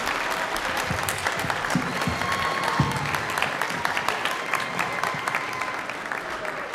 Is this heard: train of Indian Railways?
no